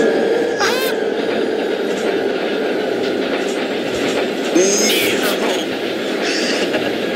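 A train in the video game Run 8 rolls loudly along the rails with continuous clatter and occasional high squeals, close and steady throughout.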